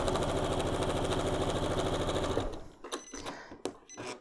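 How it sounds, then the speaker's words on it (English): A sewing machine set to a short 1.7 stitch length runs a quick, steady buzzing seam through quilt block fabric for over two seconds, then stops, followed by a few soft handling clicks and rustles. "I'm going to go ahead and sew this side."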